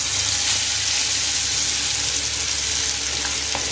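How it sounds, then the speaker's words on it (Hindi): Ground spice paste sizzling in hot oil in a pan for a Kerala-style fish fry, a steady, close, continuous frying hiss with no talk. "तेल गरम हो गया है। अब ये इसके अंदर हम पीस डालेंगे।"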